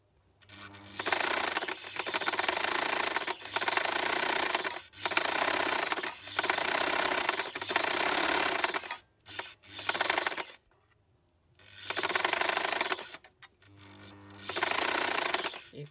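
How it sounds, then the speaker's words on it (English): A sewing machine stitches fabric in long steady runs, stopping briefly between them, with short pauses and a few quick bursts, close and loud with no talk. "So you continue stitching."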